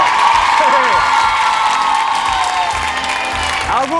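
A studio audience on an Italian television show bursts into steady applause mixed with cheers and whoops, continuous and close, with occasional shouted voices on top.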